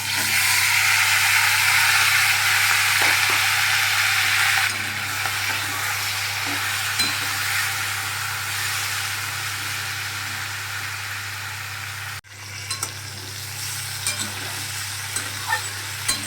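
Potato and eggplant pieces frying in hot oil in a pan, a loud, steady sizzle that drops partway through and drops again sharply near the end, with occasional stirring clinks over a low constant hum.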